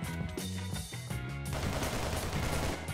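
Gunfire in the Minecraft video game, a dense run of shots layered over game music with a steady beat, loud and continuous for the whole stretch.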